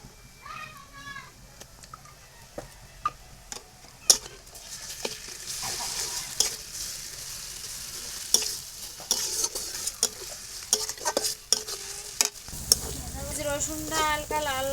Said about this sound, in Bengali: রসুনটা হালকা লাল লাল ভাজা হয়ে গেছে